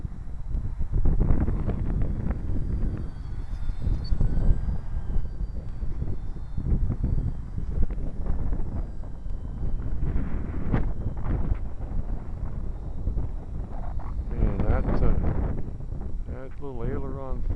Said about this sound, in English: now the wind's picking up a little bit